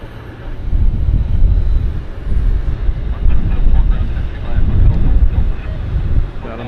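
A Boeing 737 Max at Vancouver airport gives a low, rumbling jet roar that swells and fades, with wind buffeting the microphone.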